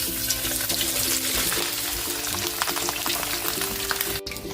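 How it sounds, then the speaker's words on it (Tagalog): Chicken fries in hot oil for a crispy pata and fried fish cookout, a dense crackling sizzle with scattered pops and a few clanks, steady and close until a sudden brief break near the end. "Magpiprito na tayo ng ating chicken."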